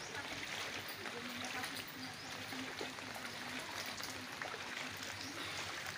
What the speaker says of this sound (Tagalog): Po ay nanggaling doon sa ilog kasi umapaw na po yung ilog.